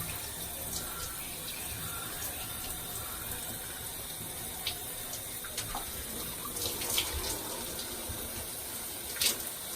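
A tap runs steadily into a sink while box braids are being washed, a constant close gushing wash of water with small splashes and knocks, and no clear talking.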